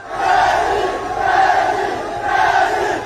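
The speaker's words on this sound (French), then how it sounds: "Devant le domicile d'Ousmane Sonko, la foule afflue." Large crowd gathering outside a former prime minister's home in Senegal, a loud continuous roar of many voices that swells and recedes in waves, with no single speaker standing out.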